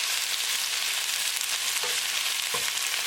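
Bell pepper and onion stir-frying in a hot pan give off a loud, steady sizzle, close up, with a couple of soft scraping stirs partway through and no voices.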